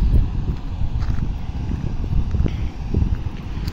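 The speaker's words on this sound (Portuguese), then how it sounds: "Dá pra vocês escutar a zoada da água aí." Water rushes through the opened floodgates of the Milagres dam on the São Francisco canal, giving a loud, continuous roar with wind buffeting the microphone and faint knocking sounds scattered through it.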